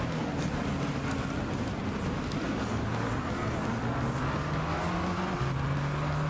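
A race car engine in the video game Gran Turismo 6 drones steadily, its pitch climbing through gear shifts in repeated rising sweeps, with no talk over it.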